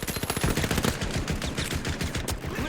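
Rapid automatic gunfire rattles continuously during a team-based shooter video game tournament match, dense and loud bursts layered over each other in a crossfire between two teams.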